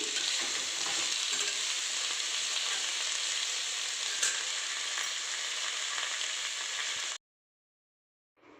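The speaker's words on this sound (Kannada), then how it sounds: "ಇದಕ್ಕೆ ಸ್ವಲ್ಪ ಜೀರಿಗೆ ಕೂಡ ಹಾಕ್ತಿದ್ದೀನಿ" Cumin seeds sizzle in hot oil with a continuous crackling hiss up close, then cut off abruptly into near silence.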